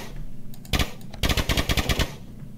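KRISS Vector submachine gun from a Minecraft gun mod, heard as two rapid automatic bursts: a short volley of about three shots, then a longer run of about eight sharp reports, close and loud with no speech.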